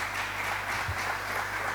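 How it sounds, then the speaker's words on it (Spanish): A seminar audience applauds in a soft, even patter, with a faint low hum underneath. "yo creo que vamos a aplaudirte, ¿no?"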